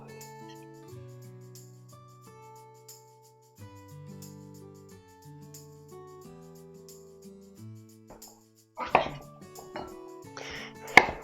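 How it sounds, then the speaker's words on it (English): Vegetables chopped on a cutting board, a few quick knife knocks arriving near the end after a stretch of soft background music, close and fairly crisp. "And then we'll chop it up."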